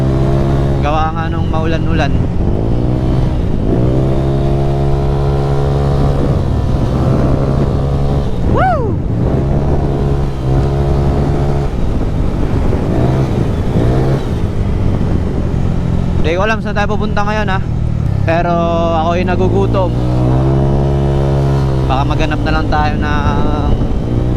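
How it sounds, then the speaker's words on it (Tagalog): A motorcycle engine drones steadily throughout, its pitch rising and falling with throttle changes, while someone talks over it and wind buffets the microphone. "miss ko rin mag video and miss ko mag motor"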